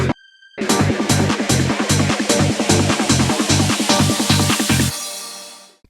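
A trance build-up made with Ableton and Serum, with a quiet string sample sustaining beneath a driving, evenly pulsing beat that starts after a brief near-silence and cuts out abruptly near the end, leaving a fading tail.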